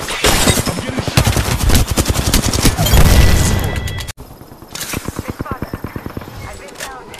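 Video game gunfire, loud dense bursts of rapid automatic shots that fill the first half, then lighter repeated firing continues under voices.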